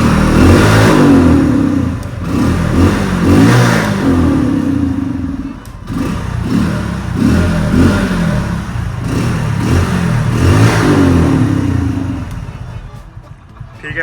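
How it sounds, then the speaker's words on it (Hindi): A motorcycle with a stock exhaust revs repeatedly in a series of loud, close throttle blips, producing a sporty, rasping burble. "जब मिसिंग थोड़ी एयर ज़्यादा ले लेती है बाइक तो स्पोर्टी साउंड करती है बहुत ज़्यादा"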